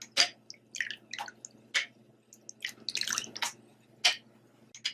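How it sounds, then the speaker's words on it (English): Spoon stirring homemade mouthwash in a container, giving a series of short wet clinks and swishes in an irregular rhythm, close and fairly quiet with brief pauses between strokes. "and give it a stir."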